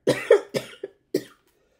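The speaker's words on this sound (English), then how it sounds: "Excuse my coughing." Four dry coughs from one person close by, two quick ones together, then two more spaced apart with a short pause, each sharp and fading fast, with quiet after.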